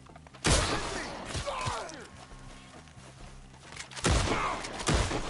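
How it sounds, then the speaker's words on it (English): Gunfire in the Western video game Red Dead Redemption 2: a few sharp, loud shots at the start and near the end, with a softer patter of distant shooting and movement between them and faint voices. "Shoot them where they stand!"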